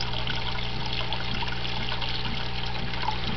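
Water trickles and gurgles steadily as it siphons between two small desktop aquaponics tanks, over a constant low pump hum, with gentle bubbling close by.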